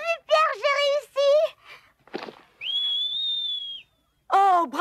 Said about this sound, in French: Je ne sais même pas bien siffler. Écoute.